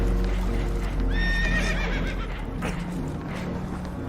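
Spooked horses whinny loudly in the Red Dead Redemption 2 video game, a shrill neigh rising over a rumbling background of water and hoof movement, with no talk.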